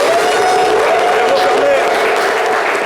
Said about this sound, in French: On va applaudir votre invité, s'il vous plaît.